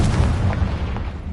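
Confringo blasting spell exploding in the Hogwarts Legacy video game: a loud, sustained booming rumble with deep low-end weight and scattered crackling bursts, with no voices over it.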